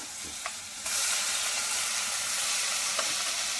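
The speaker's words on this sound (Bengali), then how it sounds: "এবার দিয়ে দেবো পেঁয়াজ বাটা, আদা রসুন বাটা" Onion paste, with ginger-garlic paste, hits hot oil already seasoned with turmeric and erupts into a loud, steady sizzle and spatter right at the pan, with a few sharp pops before the surge.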